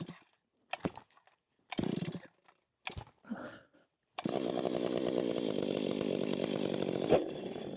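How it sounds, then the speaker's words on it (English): A chainsaw rips into a tree limb being cut up outdoors, starting after a few short bursts of revving and idling, then holding a loud, sustained cutting roar close by. "Yeah, let's do a little chainsaw work."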